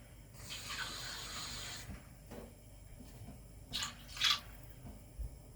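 Water being poured into a pot for chicken biryani rice, a soft, quiet splashing stream lasting under two seconds, followed by a few faint drips and clinks.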